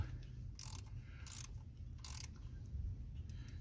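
A socket wrench ratchets on the small 7mm ignition coil bolts of a 1998 5.4 engine, with three short bursts of quick clicking heard faintly and close up against a quiet background.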